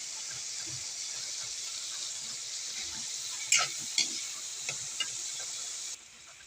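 Tough vegetable stems stir-frying in a pan, a soft steady hiss of oil and steam with a few sharp clicks of a utensil near the middle, fairly quiet and with no talking.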